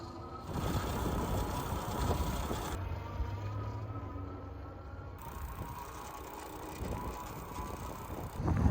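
Ride on a Himiway Cruiser electric fat bike, a heavy e-bike over 70 pounds, outdoors on a clear day: steady rolling tire and motor noise with wind buffeting the microphone throughout, a low hum swelling midway, no talking.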